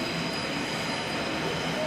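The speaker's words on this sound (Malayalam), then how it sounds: "അവിടേക്ക് ചെല്ലുമ്പോൾ ഒരു ട്രെയിൻ കിടപ്പുണ്ട്" A train at a platform of Berlin Hauptbahnhof, a busy German main station, gives a steady rumbling drone with faint wheel squeal, continuous and moderately loud, with no talk.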